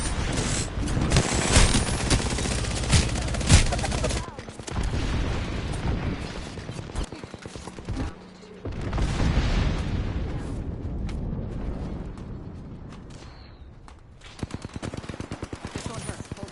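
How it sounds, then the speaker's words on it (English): Heavy automatic gunfire and rapid bursts of shots fill a battle in the video game Apex Legends, loud and dense throughout with brief lulls, mixed with voices and other combat noise. "I'm getting shot at"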